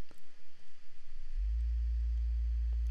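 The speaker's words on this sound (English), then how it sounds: "a sine wave just gives us the frequency that we're" A 57 Hz sine wave from a VCV Rack software synthesizer: after a second of soft pulsing, a steady, loud, deep pure hum starts and holds unchanged to the end.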